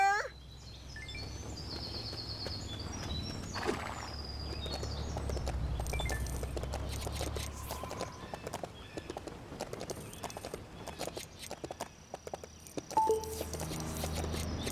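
Horse hooves clip-clop steadily across a farm in the Lego City Undercover video game, with bird chirps and other game effects mixed around them. The sound is moderately loud, and dialogue occurs in places.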